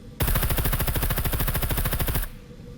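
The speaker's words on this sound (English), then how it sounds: "put a couple rounds in him" Automatic gunfire from the survival video game SCUM rattles off in one rapid, loud, continuous burst lasting about two seconds before cutting off.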